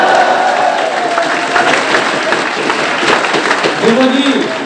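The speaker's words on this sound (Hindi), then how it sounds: "जब तक सब लोग ताली नहीं बजाएंगे यही पंक्ति पढ़ता रहूंगा।" A crowd at a Hindi poetry gathering (kavi sammelan) claps continuously, a dense loud wash of applause with voices mixed in.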